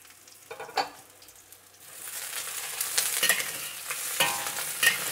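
Eggplant searing in hot oil in a wok, a soft sizzle that swells into a steady loud frying hiss after about two seconds, with scraping stir strokes breaking through, no voices.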